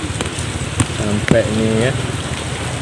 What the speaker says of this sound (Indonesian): Hujan-hujan ini.